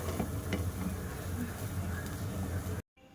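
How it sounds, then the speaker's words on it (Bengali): Rice boils in water under a covered lid for egg pulao. A steady hissing bubble with a low rumble continues evenly, then cuts off abruptly just before the end. "তো এবার দেখো, ভাতটা ফুটছে"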